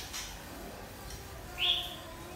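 A caged white-cheeked bulbul gives one short, bright chirp partway through, set against a faint hum of room noise.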